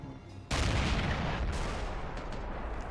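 In a war video game, a sudden loud explosion goes off and is followed by a sustained roar of artillery fire, booming and crackling with a few faint later thuds.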